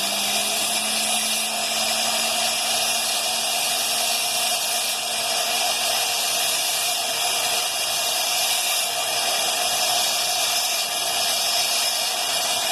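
A rotary tool with a 600 grit inverted cone carving fire agate gives a steady, loud high-pitched whine with grinding hiss that runs unbroken and close-up throughout, with no talking.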